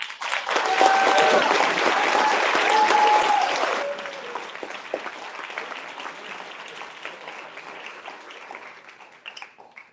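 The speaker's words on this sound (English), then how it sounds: "let's give one last really loud round of applause for the students here" A hall full of people gives a loud round of applause for students at a high school science competition, dense clapping with some cheering that drops abruptly to scattered claps and murmuring chatter.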